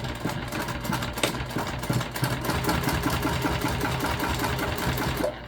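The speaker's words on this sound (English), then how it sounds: "And you're top stitching at 1/8, and we're using about 1/4 inch for our regular stitch length" Sewing machine stitching summer beach pouches with Tex 35 thread, top stitching at an eighth inch with a quarter-inch stitch length; a steady, fast mechanical whir and clatter runs continuously and fairly close.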